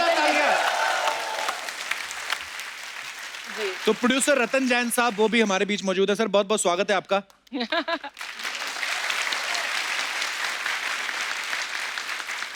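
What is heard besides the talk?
audience applause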